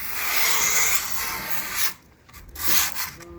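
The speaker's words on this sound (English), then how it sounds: "I can take this last piece of grip from the cutoff scraps and I can rub it around the edges" A scrap of skateboard grip tape rubbed around the edges of a deck, giving a loud, close, gritty sanding scrape that runs steadily, drops off briefly, then returns in shorter strokes.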